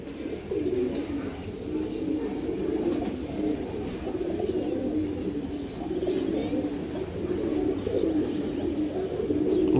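Racing Giribaz pigeons from tournament lines coo in a steady, rolling series over a continuous background hum, with several brief higher chirps partway through.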